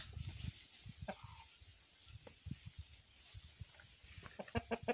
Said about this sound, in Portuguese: Olha a felicidade dessa galinha.